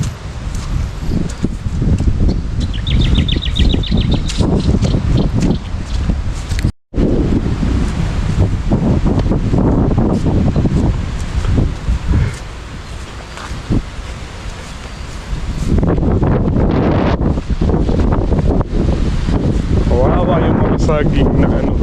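Strong wind still roaring after a typhoon passes over a rural farm, a loud, steady buffeting rush against the microphone with rustling leaves, broken by one brief drop-out; voices talk faintly underneath.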